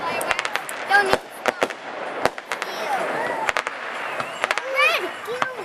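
Fireworks exploding at a festival, sharp irregular bangs and crackles near and far, with people talking and exclaiming over them.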